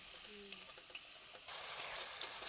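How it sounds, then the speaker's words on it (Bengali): Ground whole cumin and coriander spice paste sautéed with a splash of water for a mixed-vegetable dish, giving a steady close sizzle with soft stirring scrapes that grow louder midway. "দিয়ে দিচ্ছি আমি অল্প জল আর জল দিয়ে খুব ভালো করে মশলা কষিয়ে নেব"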